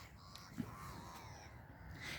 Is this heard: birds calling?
yes